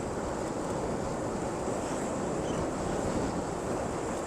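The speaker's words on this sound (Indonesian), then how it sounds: "Ini anginnya kencang banget teman-teman di sini nih." Strong wind roars steadily across an airport perimeter road, a dense, continuous rushing with buffeting on the microphone, loud and unbroken throughout with no voices.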